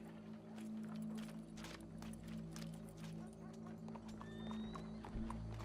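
Horse hooves clip-clop in a steady walking rhythm, fairly close, over a low hum, with a faint whinny-like squeal near the end.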